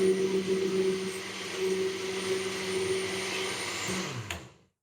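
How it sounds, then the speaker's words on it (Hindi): An electric blender whirs steadily while blending fresh mango juice, a loud continuous motor drone with a strong hum that runs for over four seconds, then cuts off abruptly near the end. "इसको थोड़ा सा अब हम और ब्लेंड कर लेंगे"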